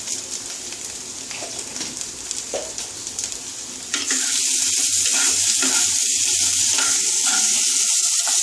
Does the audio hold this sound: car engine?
no